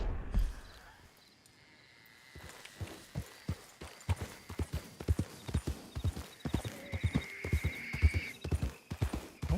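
A horse in Red Dead Redemption 2 walks with rhythmic clip-clop hoofbeats that start after a quiet moment and continue steadily, with a whinny rising partway through; close and clear, no talk.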